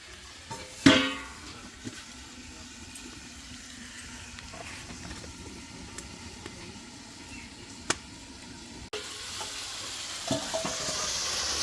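Goat meat sautéing and being stirred in a pot, with a low steady sizzle, a sharp clank of metal near the start, and intermittent scrapes, followed by a louder hissing stretch near the end.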